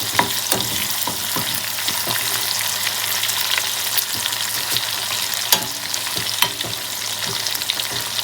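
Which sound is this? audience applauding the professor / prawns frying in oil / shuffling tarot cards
prawns frying in oil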